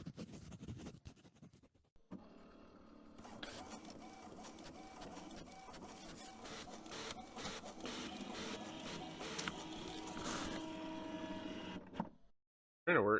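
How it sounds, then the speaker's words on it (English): A printer runs inside the horror game House On The Hill, a mechanical whirring and rattling feed that starts after a short pause, holds steady for about ten seconds, then stops abruptly. "Printer works."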